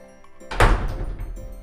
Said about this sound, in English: Now let's watch the door close, guys.